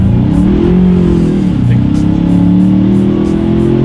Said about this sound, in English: let's do an acceleration test here, see how quickly we can get the new 2019 Ranger up to speed